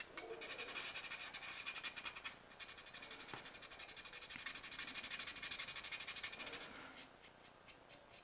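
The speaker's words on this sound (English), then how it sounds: "once I get it down with the rough sandpaper, then I start going finer and finer." Rough sandpaper rubs back and forth on a 1/100 scale Nightingale model part, making close, quiet, rhythmic scratching strokes that run steadily and then break into a few shorter separate passes.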